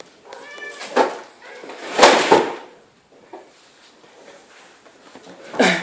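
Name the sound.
cat meowing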